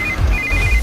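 An electronic phone ring trills in two short bursts, clear and fairly close, over a low background hum.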